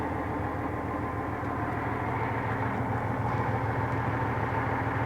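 An MTZ 1523 tractor engine runs at a steady, even drone, a dense mechanical hum that holds constant throughout without talking.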